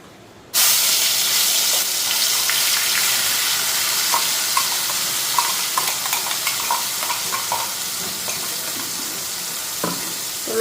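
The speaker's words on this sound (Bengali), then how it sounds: "তো এখানে তেল গরম হয়ে গেছে এখন মশলাটা দিয়ে দিই আগে" Spices hitting hot oil in a pan, a sudden loud sizzle that keeps hissing and frying steadily, with small clinks and stirring sounds over it.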